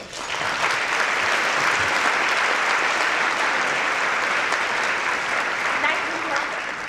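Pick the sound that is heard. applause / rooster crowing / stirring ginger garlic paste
applause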